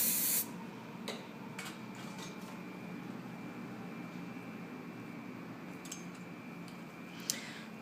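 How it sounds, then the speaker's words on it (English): Hairspray is sprayed onto sections of hair during a short-hair updo, a sharp close hiss at the start followed by quiet steady room noise and a few faint clicks. "Put a little bit more hairspray on these pieces here."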